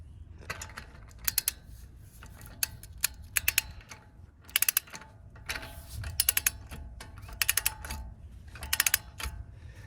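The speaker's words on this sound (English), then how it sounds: "now we're going to use a torque wrench to tighten it" A torque wrench tightens a wheel stud nut on a 2020-2023 Toyota Supra, giving quick bursts of sharp, close ratcheting clicks separated by short pauses.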